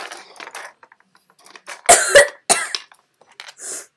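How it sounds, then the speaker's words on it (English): Someone who is sick coughs several times close to the microphone, with a couple of harsh, loud coughs in the middle and quieter throat sounds and breaths before and after. "Keep coughing"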